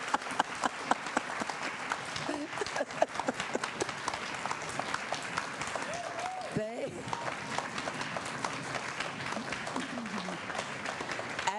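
An audience at a school board of education meeting applauds students, producing sustained clapping with sharp individual claps, while people talk over it and a brief whoop rises near the middle.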